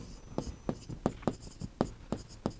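A pen or pencil writes out a maths solution on paper in short, close scratching strokes, about eight distinct taps and scrapes in an uneven rhythm, quiet and heard alone.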